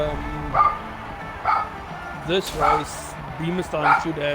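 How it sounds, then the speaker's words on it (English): Several dogs bark and yip in short repeated bursts nearby, a few whimpering yelps mixed in, heard under someone talking during an online sim-racing session. "Sorry for the dogs, guys."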